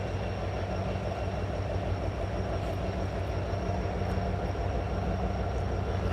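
Norfolk Southern train pulling away trackside, a steady low rumble of engine and wheels holding at constant loudness throughout, with no voices.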